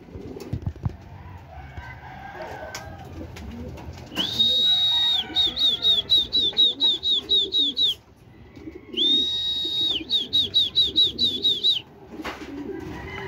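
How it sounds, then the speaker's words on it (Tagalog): Racing pigeons arrive at the home loft after a 175 km training flight from Rosario, La Union, amid outdoor background noise and bursts of pigeon cooing. Two loud, close electronic trap-clock chirp sequences also sound, each made of rapid repeated beeps. "Sunod-sunod yung ibon natin."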